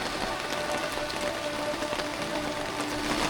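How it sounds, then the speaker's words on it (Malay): Steady heavy rain pours down at a campsite at night, a dense continuous hiss of drops hitting surfaces, loud and unbroken throughout. "Wah, hujan lebat"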